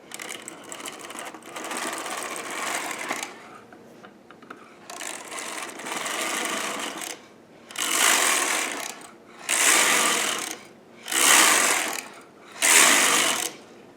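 Brother toy knitting machine carriage drawn back and forth across the needle bed knitting ribbing rows, a loud, close mechanical clatter in repeated passes of one to two seconds, separated by short pauses.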